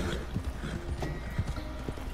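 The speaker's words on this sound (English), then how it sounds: "Man, I see like two more horses coming." Horses galloping in the video game Red Dead Redemption, quick rhythmic hoof clip-clops at moderate distance, fairly faint, with a faint voice in the background.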